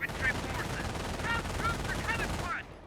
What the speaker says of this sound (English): Our squad's getting suppressed by the MG42.